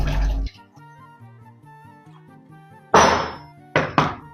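Dishes clatter and thud in a kitchen sink, a heavy bang at the start and another burst near the end, with a soft melodic tune playing quietly between them.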